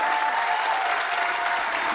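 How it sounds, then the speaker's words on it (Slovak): Loud, steady applause from a studio audience on a Slovak late-night talk show, filling the whole moment with dense clapping and no speech. "Veľký potlesk."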